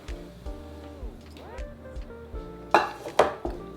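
Pot contents are scraped and transferred into a bowl while making Karpatka cake, with repeated metallic clinks and knocks at steady intervals, ending in two louder, sharper clatters.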